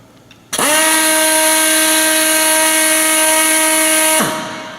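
A TorcUP hydraulic torque gun switches on and runs free, not on a nut. It gives a loud, steady, pitched whine for about four seconds, then stops and winds down.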